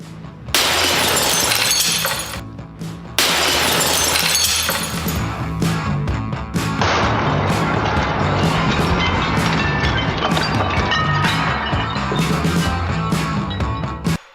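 Glass made of 100 layers of duct tape takes a bullet, a sharp loud shattering crack followed by another burst of breaking, then a long crackling, crunching tail.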